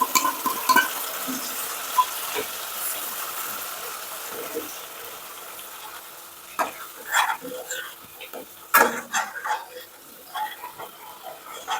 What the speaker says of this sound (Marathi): हे आपण जे पेस्ट तयार केलेली आहे ती यामध्ये सोडायची आहे